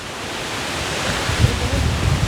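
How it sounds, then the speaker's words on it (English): Strong wind blowing across open grassland in Liverpool, a loud continuous roar that buffets the microphone and swells slightly toward the end. "Very windy,"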